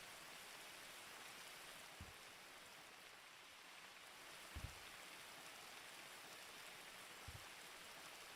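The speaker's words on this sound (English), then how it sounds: "we hear the rain" Rain falling outside a house in a GTA roleplay game, a steady, even wash of rainfall heard from indoors, with a few soft low thumps scattered through it.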